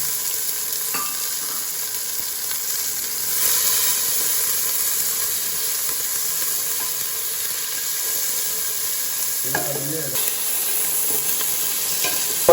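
Onion and tomato frying in a pan for Jaffna-style crab curry, a steady close hiss of sizzling with occasional stirring scrapes, with no talking.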